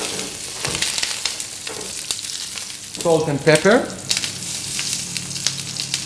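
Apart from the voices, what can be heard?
cherry tomatoes sizzling in olive oil in a pan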